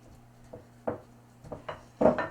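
A spoon knocks and scrapes in a bowl as egg yolk mixture is stirred into dry ingredients for chunky apple muffins, a few soft irregular strokes growing louder near the end.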